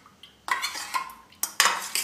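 Spoon stirring soya chunks in cornflour batter in a bowl, giving a few close, crisp clinks and scrapes in short bursts, with no talking.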